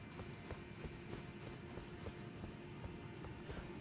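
Steady, rhythmic hoofbeats of a horse trotting in the video game Elden Ring, repeating evenly throughout against a constant background hum.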